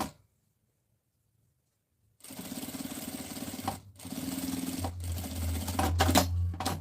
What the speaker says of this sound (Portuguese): venho com uma costura rebatendo abaixo do zíper